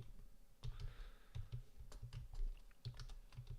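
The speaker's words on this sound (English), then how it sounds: "It's just a lot of typing." Someone types steadily on a computer keyboard while coding, a close, quiet run of uneven key clicks in short bursts with no voices.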